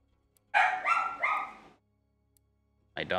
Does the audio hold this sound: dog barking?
yes